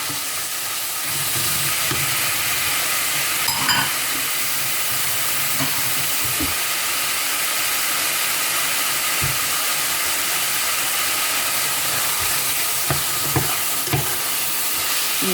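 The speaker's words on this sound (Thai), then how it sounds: "นั่นคือเสียงพัดลมนะคะ" A household electric fan runs steadily on a hot day, giving a constant broad hissing whir at close range, with faint knocks and clatter from food preparation nearby.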